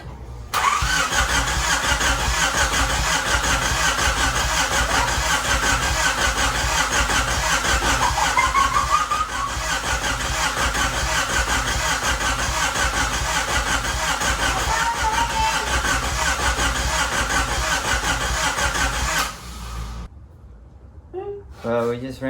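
A Honda Civic D16 engine, fitted with a distributor on an old tune, cranks and fires to a loud, steady running rumble for about twenty seconds and then cuts off abruptly, with people talking over it.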